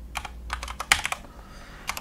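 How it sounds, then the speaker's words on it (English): Password being typed on a computer keyboard: quick bursts of close, crisp key clicks with short pauses between groups, no voices. "I'm going to type the same thing here"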